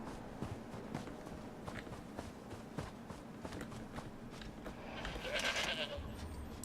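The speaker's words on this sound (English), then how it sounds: "Goats! I found them." Goats bleat in the game Elder Scrolls Online amid a steady outdoor ambience and soft footstep-like thuds, with a brighter, louder bleating cry rising near the end.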